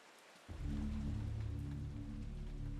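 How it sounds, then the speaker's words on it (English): In the video game Eternal Darkness: Sanity's Requiem, rain falls as a soft, steady hiss that begins suddenly. It continues evenly throughout over a low, sustained droning hum. "It's raining now."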